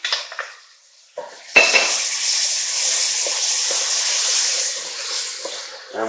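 Garlic hitting hot fat in a pot for braised beef short ribs, a sharp sizzle that jumps up and then holds as a steady bright hiss, with a few faint clinks of a utensil stirring against the pot.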